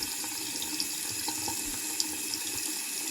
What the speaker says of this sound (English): I'm going quickly to wash my eyebrow and reapply it again